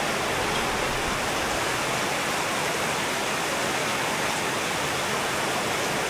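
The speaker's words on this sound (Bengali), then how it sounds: "প্রচণ্ড গরমের পর স্বস্তির বৃষ্টি শুরু হয়েছে, অনেক বৃষ্টি, অনেক।" Heavy rain pouring down after a spell of hot weather in a village, a dense, even roar of falling water that holds steady throughout with no talk.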